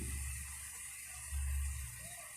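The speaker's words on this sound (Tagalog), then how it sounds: "Lagyan na natin ng tubig, sakto lang." Water poured into a cooking pot while preparing paksiw na bangus, a steady low pouring rush with a brief louder surge midway, close and alone.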